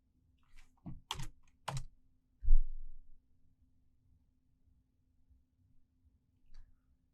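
Typing on a computer keyboard while working in a command shell: a few quick clustered keystrokes, then a heavier key press like Enter, followed by near silence and one faint click later, close and fairly quiet.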